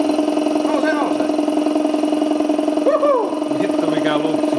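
A turbocharged BMW M50/M52 inline-six hums at a steady idle, close and loud, while voices talk over it.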